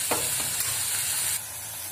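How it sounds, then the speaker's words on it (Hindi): Masala roasts in a pan with a bright, steady sizzle while a spoon stirs it in a few scraping strokes, then the frying hiss settles a little quieter. "इसे अच्छे से भूंजे, इसमें भी 2-3 मिनट आपको रुकना पड़ेगा, अच्छे से पकाएं इसे"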